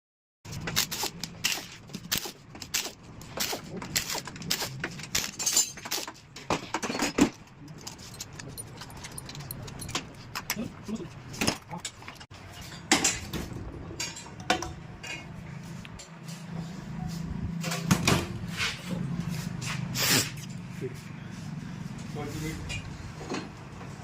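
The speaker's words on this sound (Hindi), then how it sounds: "अब इसको हम डिसमेंटल करेंगे क्लच कवर को" Tools work on the clutch cover of a Honda Splendor HF Deluxe BS6 motorcycle engine during dismantling, with close, dense metallic clinks, rattles and clatter going on throughout.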